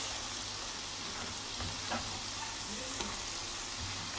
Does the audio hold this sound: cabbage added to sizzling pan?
yes